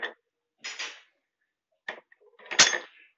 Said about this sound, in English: you basically just put each spoon in one of these grids